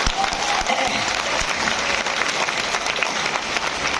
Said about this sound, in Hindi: एक बार थोड़ी 5-7 तालियां बजा दीजिए।